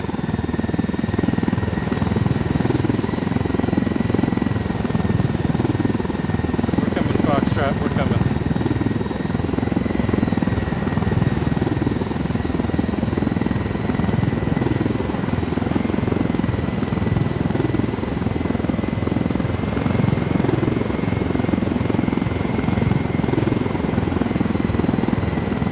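A helicopter's rotor chops steadily in the background of a Ghost Recon Wildlands game, a constant droning thump under occasional faint talk.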